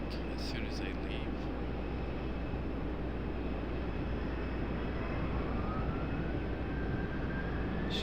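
An American Airlines airliner, flight 1674, departing RDU with a left bank: a steady, far-off broadband jet roar with a thin whine rising in pitch toward the end.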